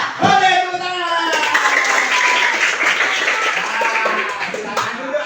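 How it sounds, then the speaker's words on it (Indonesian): Children in a classroom burst into steady, dense applause that starts after a brief spoken cue and carries on loud and close for several seconds, with a few voices mixed in. "Boleh tepuk tangan"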